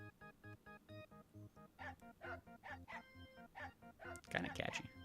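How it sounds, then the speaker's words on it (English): A tuneful song from the Silent Hill 2 remake video game built from sampled dog barks and yips, pitched like notes in a bouncy, steady rhythm, ending in a denser cluster of barks. "is everybody super pumped about listening to the dog song"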